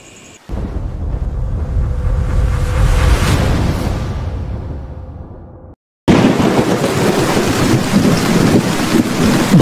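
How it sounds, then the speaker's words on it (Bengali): Heavy, continuous rain pours onto the roof of a village hut in a cartoon, a loud, dense roar that breaks off briefly and then resumes just as strong, with no talk. "কুড়ে ঘরের চালে বৃষ্টির একটানা শব্দ শুনে ঘনেশ্বরের ঘুম ভেঙে গেল"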